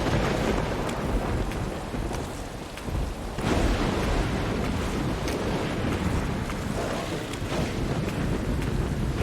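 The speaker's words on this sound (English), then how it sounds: "big dog, or some other wild animal when it's thundering this hard" Heavy storm thunder rumbles on and on, deep and loud, mixed with rain and gusting wind buffeting the microphone, with louder cracks and swells throughout and no talking.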